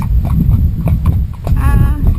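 Hooves of a cob being ridden through a forest, clip-clopping in a steady walking rhythm up close, with faint jingling tack and a short snort or breath over the beat.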